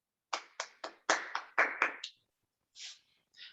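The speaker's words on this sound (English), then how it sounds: "Please give a round of applause to yourself." Several sharp, close handclaps from a few workshop participants come in an uneven burst, followed by a couple of softer, separate claps after a short pause.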